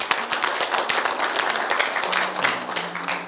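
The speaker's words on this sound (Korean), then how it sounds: "고생하시라고 박수 한 번" A meeting audience at a village heads' association training session in Korea breaks into steady, sustained applause, many hands clapping densely throughout at close range.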